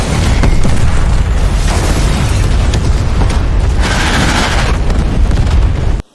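A loud, rumbling explosion tears through Rambo's house in Rambo: Last Blood, a heavy sustained blast with debris and crackling that rolls on for several seconds before cutting off abruptly.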